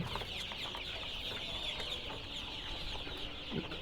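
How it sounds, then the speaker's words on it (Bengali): Several young chickens cluck softly and repeatedly nearby over a low, steady background murmur. "মুরগিগুলো দেখেন"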